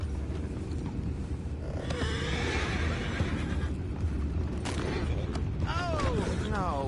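Horses whinny in Red Dead Redemption 2, with a long falling neigh near the end over a steady, dense bed of game ambience and faint hoof and creak noises.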